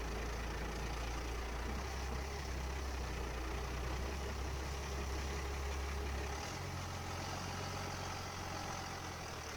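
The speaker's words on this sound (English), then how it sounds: "Sounds like a goddamn tractor." A truck engine idles with a low, steady, tractor-like rumble, continuous and fairly close, with a slight drop in pitch partway through.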